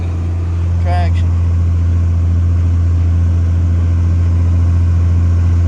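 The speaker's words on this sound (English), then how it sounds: "The whole ground get loose, the tractor losing traction." John Deere 4650 tractor pulling a Hay King ripper through loose ground and losing traction, giving a loud, constant low engine drone under strain; a brief chirping sound rises near the start.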